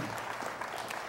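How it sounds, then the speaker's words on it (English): Audience applause at a talk event, a dense, steady patter of clapping from a room full of people, fairly close and filling the short moment. "Please give yourselves another round of applause for being here."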